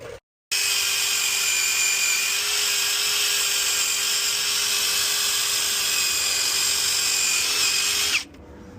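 A power grinder cleaning the front wheel hub of a 2006 Toyota 4Runner whines loudly and steadily at high pitch for several seconds, then spins down and stops, with no talking.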